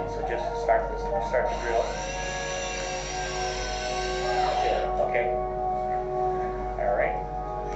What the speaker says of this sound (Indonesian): Ini adalah contoh pemasangan akses intraoseus dengan menggunakan bor